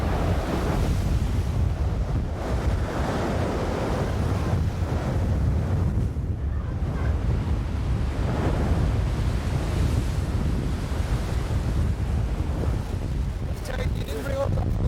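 Stormy water churns and surges steadily under strong wind buffeting the microphone during a hurricane in England, a loud continuous roar of waves and gusts close by.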